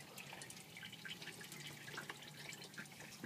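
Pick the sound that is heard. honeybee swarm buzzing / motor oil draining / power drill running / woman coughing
motor oil draining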